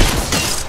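A brief, loud burst of rapid gunfire in the Apex Legends battle royale game, close and crackling for under a second with no voices.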